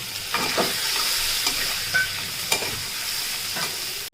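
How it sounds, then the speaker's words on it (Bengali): Potatoes stir-fried with fried onions and a little sugar in a pan, a constant close sizzle broken by regular scraping stirs and light clinks, without any talking. "পেঁয়াজটা ভাজা হয়ে গেছে, এবার দিয়ে দেবো আমি"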